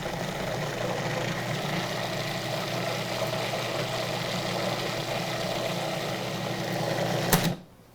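Whole milk ricotta whipped in a stand mixer or processor, a steady motorized whir running unbroken and fairly loud for several seconds before cutting off abruptly near the end.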